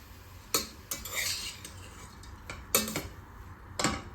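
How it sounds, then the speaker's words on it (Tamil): Carrots sauté in ghee in a pan as a spoon stirs them, giving a handful of distinct scraping strokes spaced irregularly over a faint, steady sizzle, close and fairly quiet. "இந்த நெய்யிலேயே வந்து இதோட பச்சை வாசனை போகிற அளவுக்கு ஒரு 2 நிமிஷம் வதக்கி விட்டுக்கலாம்"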